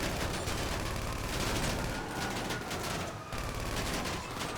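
Dense, continuous gunfire from GTA 5 Online, a loud sustained fusillade of rapid shots with a brief dip near the end, no talking over it.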